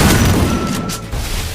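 Gunfire in the Free Fire mobile battle royale game: a quick burst of loud, booming shots that rings out, then a short lull before another hit, all close and punchy.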